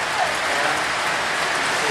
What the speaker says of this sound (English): look, now it's running in the rain